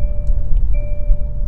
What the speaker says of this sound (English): that is a chime going off